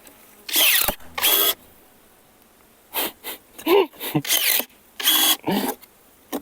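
Cordless ABS H40-5SP pruning shears bite into a wooden pallet in a series of short, sharp motor bursts, some quick and close together and others spaced apart, loud and near.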